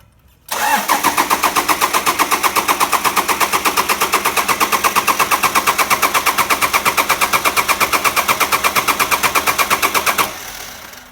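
A freshly rebuilt car engine cranks and catches, then runs steadily for about ten seconds with a loud, even, rapid pulsing rhythm before cutting off abruptly.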